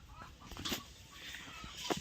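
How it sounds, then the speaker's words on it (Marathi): A hen clucks a few times at a distance after laying an egg, quiet and intermittent against faint background noise. "कोंबडीने अंडा घातलं वाटतं"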